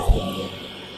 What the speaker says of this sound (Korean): 배터리만 꽂으면 작동이 됐을 때 안전 스위치 누른 다음에 작동 레버를 하면 소음이